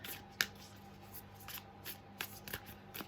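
Soft riffling and shuffling of tarot cards, a sharp flick near the start followed by intermittent light card slaps and rustles, close and quiet.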